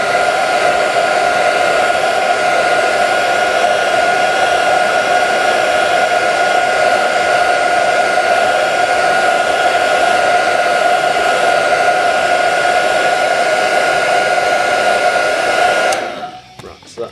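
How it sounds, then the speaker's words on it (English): A hairdryer blows steadily and loudly onto a painted model Land Raider tank, a constant whooshing whine that cuts off abruptly near the end. "gamer's hairdryer, stolen off the missus quite some time ago. So I'm going to give it a blast"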